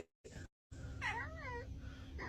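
A cat meows with a rising, wavering call after a couple of short bursts, fairly close and faint, alone without talk.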